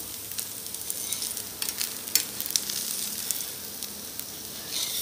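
Rava dosa frying in ghee on a pan, a steady soft sizzle and crackle with faint scraping, fairly quiet and continuous with no talking.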